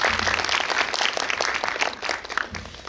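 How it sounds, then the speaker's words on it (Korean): An audience in a cinema gives sustained, dense applause to welcome the director of the film Miss Baek, a steady clatter of many hands lasting the whole stretch. "큰 박수로 다시 한번 맞이하겠습니다"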